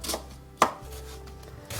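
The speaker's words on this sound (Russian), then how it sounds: "Лук нарезаем мелко." A knife chops an onion on a board: two or three crisp, separate strikes, close and fairly loud, with quiet between them.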